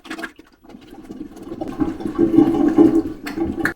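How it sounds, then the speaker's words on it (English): Plunger pumping air through a nearly emptied toilet P-trap: close, hollow gurgling and bubbling that builds over a few seconds, with rhythmic airy surges and no talking. "It sounds like air in the P-trap."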